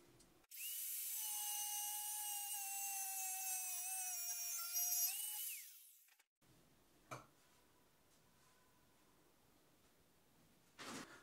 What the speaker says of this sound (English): And to cut this, I'm going to use the angle grinder.